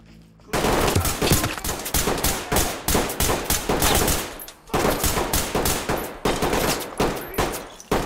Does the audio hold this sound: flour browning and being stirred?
no